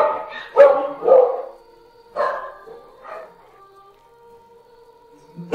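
Dog barking in a few sharp, separate barks and yips with short whimpering tones between them, close and clear with quiet gaps and no speech.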